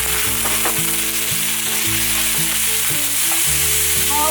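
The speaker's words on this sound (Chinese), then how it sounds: "红萝卜丝稍微炒软后" Shredded carrot stir-fries until soft in a vegan dish, sizzling loudly and steadily while a spatula scrapes and taps the pan at a regular pace.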